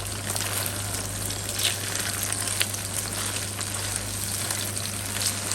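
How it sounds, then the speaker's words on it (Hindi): Beaten plain egg frying in a kadhai gives a steady, close crackling sizzle with continuous hiss and no talking. "सिर्फ सिंपल एग है फेंटा हुआ, और उसको हमने फ्राई कर लिया"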